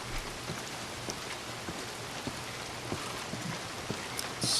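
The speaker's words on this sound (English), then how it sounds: "It's starting to rain" Steady rain falling in the Red Dead Redemption 2 video game, a dense continuous patter of drops at night with faint scattered ticks and no voices.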